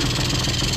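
A 2001 Yamaha Vino scooter, newly brought back to running and smoking, idles with a steady, loud, buzzing engine drone up close.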